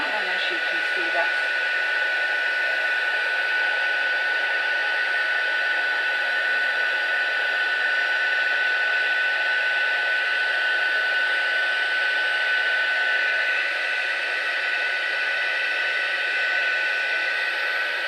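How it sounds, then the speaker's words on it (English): An embossing heat tool blows hot air to set embossing on a Ferrero Rocher treat box, producing a steady, loud hairdryer-like whoosh with a high whine that runs unbroken for the whole stretch, with no talk. "now I'm just going to put my heat tool on again to just set these"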